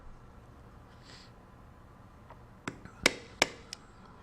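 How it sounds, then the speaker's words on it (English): A veiner tool is struck to stamp a border into a leather coaster, giving a short run of four or five sharp, close taps over a faint background hiss. "stamping a border around this coaster with a veiner"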